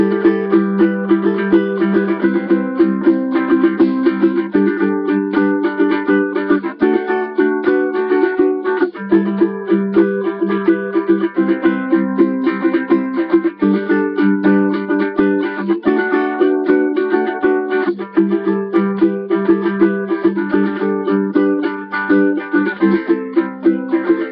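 Steady ukulele strumming plays the repeating chord progression of a song for the whole stretch, bright and close with an even rhythm and no voices.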